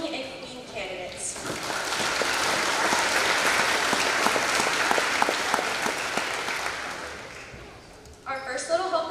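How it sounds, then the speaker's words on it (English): An audience at a homecoming event claps loudly and steadily for several seconds for the king and queen candidates, the applause swelling and then tapering off before a voice resumes at the end. "Let's give a round of applause for all of our King and Queen candidates."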